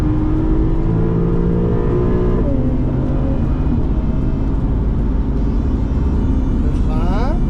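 A Porsche Targa on the Dijon-Prenois race circuit, its engine droning loud and steady with rising rev sweeps and a gear change, heard from inside the car at close range.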